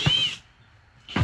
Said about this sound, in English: I just take it, drill a big hole in it.